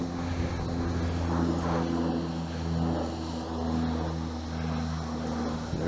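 A steady, droning engine hum from an aircraft flying overhead, fairly loud and continuous throughout with slow swells in level and a low tonal rumble, heard outdoors with no talking.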